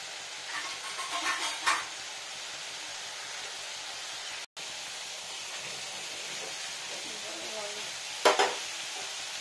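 Pointed gourd (potol) fries in a pan over low heat, with a steady soft sizzle running throughout and a few brief bursts of stirring and scraping near the start and near the end.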